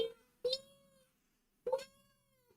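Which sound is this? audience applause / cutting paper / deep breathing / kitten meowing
kitten meowing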